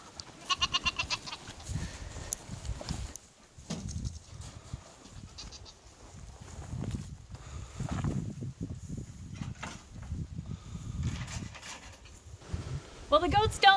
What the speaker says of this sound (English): Well, the goats don't seem to be fazed by this weather at all.